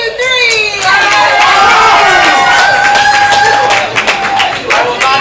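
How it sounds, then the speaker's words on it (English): A comedy improv theater audience claps, cheers and shouts together to vote for a team, a loud sustained wall of crowd noise with children's high yells over it. "Everyone else, clap to your point, try to influence."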